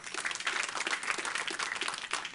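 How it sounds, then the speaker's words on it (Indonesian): Church congregation applauding during a sermon, a lively, dense crackle of many hands clapping at once, close and sustained throughout. "Tepuk tangan yang dahsyat."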